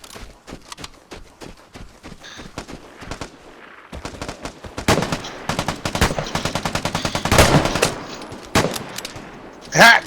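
Rapid automatic gunfire from the video game Vigor rattles in irregular bursts, with single shots and sustained volleys growing louder through the middle, and a brief voice near the end.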